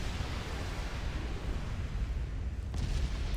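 Naval artillery shells fire and explode among battleships in the game Ultimate Admiral Dreadnoughts, heard as a continuous dense roar of rumbling booms with a sharper burst near the end.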